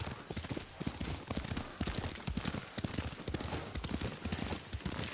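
Horse hooves beat in a fast, steady rhythm as a rider gallops in the video game Ghost of Tsushima, with dense, close clip-clops running throughout.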